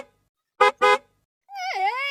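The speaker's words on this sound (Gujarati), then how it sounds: "ગાડીનો હોર્ન વાગ્યો છે" A car horn gives two short, even honks close by, followed by a rising and falling tonal sound in a Gujarati comedy setting.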